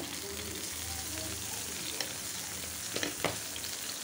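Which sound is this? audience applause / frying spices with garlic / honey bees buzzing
frying spices with garlic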